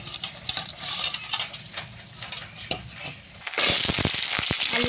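Chopped potatoes and onions in mustard oil fry in a pan with a soft, crackling sizzle and scattered ticks of stirring, which swells into a louder, denser hiss near the end.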